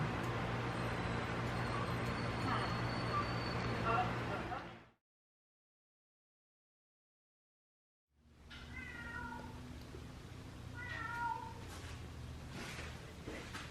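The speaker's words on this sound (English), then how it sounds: "You missed me, kittens?" Pet cats at home meow several times in short bursts after a stretch of near silence, close by and fairly clear, with a low hum of traffic in the background.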